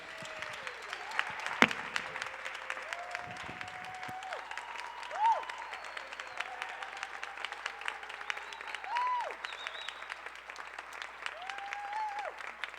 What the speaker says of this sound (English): give a huge round of applause for Sugar Sullivan